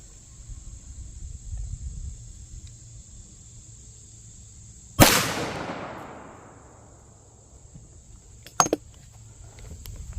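Pistol fired at concrete blocks outdoors, one sharp loud report with a long fading echo, then a smaller crack a few seconds later, over a steady chirp of insects.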